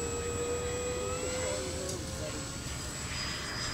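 An FMS F7F Tigercat 1700mm PNP RC model airplane taxis out, its electric motors giving a steady, faint high whine with slowly shifting tones over a constant rushing background.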